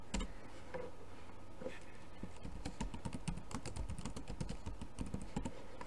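Keys clack on a computer keyboard while a title is entered in an image editor, a fast irregular run of light taps getting denser toward the end, close and clear with no talking.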